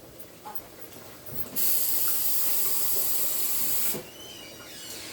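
Fenugreek powder mixed in water is poured into a hot pot for a methi rasam, giving a sudden loud hissing rush that lasts about two seconds before it settles back to a quieter simmer.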